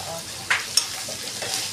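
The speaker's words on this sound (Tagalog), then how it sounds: "Tingnan natin ang niluluto ng aking sister. Magluluto siya ng pansit." Pancit noodles frying in a pan, a bright continuous sizzle with a couple of sharp scraping stirs, close and fairly loud, with no talking.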